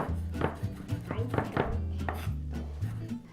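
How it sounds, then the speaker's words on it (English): A knife minces fresh basil for pesto on a cutting board, quick rhythmic thuds and taps close by, fairly soft and alone. "And then turn that all around, and then mince it up, just like I did the arugula."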